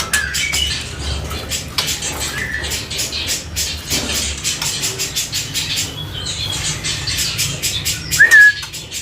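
A murai trotol songbird at a bird kiosk gives a few brief, bright chirps and whistles amid a steady patter of clicks and shuffling cage noise, moderately close.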